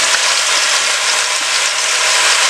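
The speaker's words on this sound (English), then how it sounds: "So as it browns on each side, you're gonna turn it until it's totally browned around the entire meat" Rouladen meat wrapped in bacon searing and browning in a pan, a loud, dense, continuous sizzle that holds steady throughout.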